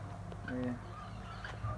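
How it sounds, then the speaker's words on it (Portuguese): Chickens clucking around a farmyard at a relative's house, a few short squawks and clucks scattered over low steady background noise, with faint voices nearby. "Ó a galinhada, ó!"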